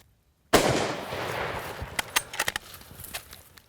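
A single loud gunshot cracks during a water buffalo hunt in Australia, following a moment of silence, then fades into a rough outdoor tail with several sharper clicks and knocks.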